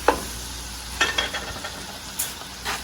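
Onions, celery and fennel cook in a heavy pot, giving a soft sizzle with a few light stirring clinks and scrapes spread across the clip, close and fairly quiet.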